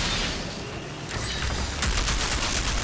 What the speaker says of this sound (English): I'm gonna try take pot shots at like the big boss there